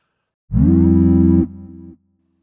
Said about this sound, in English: Let's add a little bit of delay to this.